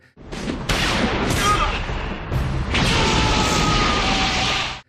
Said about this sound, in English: it is Devilman who grabs the gun and pulls the trigger